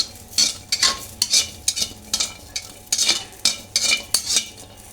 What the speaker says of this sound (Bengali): কাঁচামরিচ রসুন আদা হয়ে গেছে ভাজা